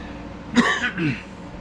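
A single rough cough followed by a short throaty follow-up, close and fairly loud, with no talking.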